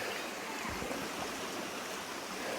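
A creek flows steadily just off the Appalachian Trail near Three Forks Gap, a continuous broadband rush of water heard up close and evenly loud throughout, with no voices over it.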